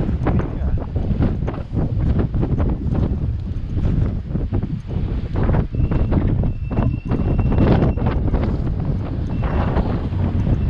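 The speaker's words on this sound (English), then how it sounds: "I hope you can hear me because it's windy." Steady, heavy wind buffets the microphone throughout on a street in Rethymno, Crete, a loud continuous rumble with gusty fluctuations and no clear speech.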